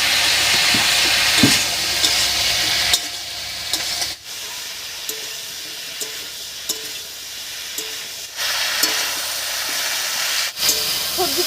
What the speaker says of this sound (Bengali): এই অবস্থায় উনুনের আস্তে বাড়িয়ে দিয়ে সবজিগুলোকে একটু ভাজা ভাজা করে নেবে